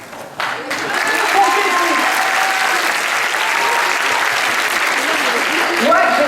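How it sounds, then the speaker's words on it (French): An audience applauds at a Pentecost 2012 gathering, sustained dense clapping that starts abruptly and holds steady and loud, with a few whoops and voices mixed into the crowd. "Alors on peut l'applaudir"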